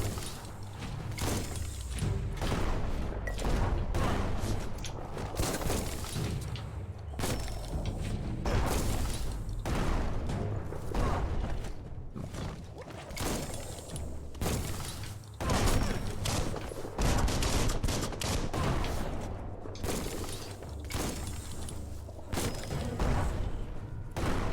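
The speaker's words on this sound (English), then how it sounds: "That's a bomb lobber." Bomb lobber firing explosives in the action game Biomutant, bursts of booming blasts and mechanical clatter coming in a dense irregular barrage, loud and close over a rumbling game soundscape.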